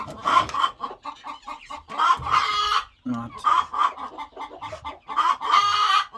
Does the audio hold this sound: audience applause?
no